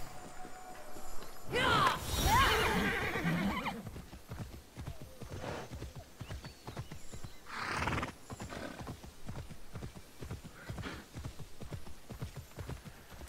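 A horse gallops across open ground in Immortals Fenyx Rising, with steady, rapid hoofbeats throughout and one or two louder neighs or whinnies rising above the running. It is heard clearly at a moderate level.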